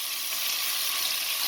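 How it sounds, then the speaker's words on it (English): Meat searing in a hot pan, giving a steady, close, bright sizzle and crackle with no voices. "this set I'm going to let it sear beautifully"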